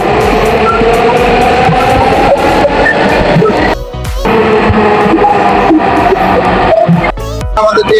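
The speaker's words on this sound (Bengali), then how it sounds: "আমাদের ট্রেন এসে পড়েছে, এখন আমরা ট্রেনে উঠবো মেট্রো রেলে" A Dhaka metro rail train arriving at a station, its loud rumbling roar and rattling steady for several seconds with brief dips, mixed with platform crowd noise and some background voices.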